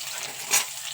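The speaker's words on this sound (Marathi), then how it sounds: "यातच आपण आता कांदा घालून घेऊ।" Sliced onions dropped into hot oil with whole spices, a brief hissing sizzle that swells for a moment then settles, close up with no talk.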